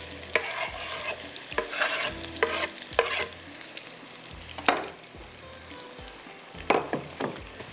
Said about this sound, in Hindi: प्याज ब्राउन हो रहा है, इसको अच्छी तरह से हमने कलर देना है